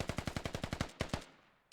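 Rapid video game gunfire in a competitive match, a fast automatic burst of about ten evenly spaced shots followed by a few slower trailing shots, crisp and fairly quiet, with no talk.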